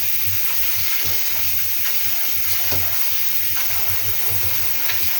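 Red-leaved vegetables being washed in water: a steady splashing rush with rhythmic sloshing of leaves in a basin, close and continuous throughout.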